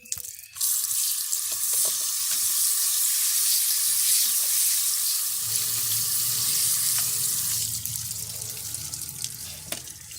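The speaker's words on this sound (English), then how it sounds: "give that a little rinse" Mined crystals, double-terminated tabby quartz from a crystal mine, rinsed under a running tap, with a steady broad rush of water splashing into a sink and faint handling clatter, loud and continuous after a brief quiet start.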